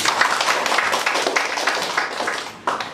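Congregation applauding during a Sunday church service, a sustained, even wash of many hands clapping at moderate loudness that continues for about three seconds with a small swell near the end.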